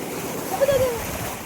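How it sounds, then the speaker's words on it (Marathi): Sea water surging and splashing against shoreline rocks at Khavane Beach, a brief swell of wash over steady wind and surf noise, with people talking nearby. "हे सगळे रॉक्सवरती असे पाणी आपटते आणि अंगात उडते आमचं"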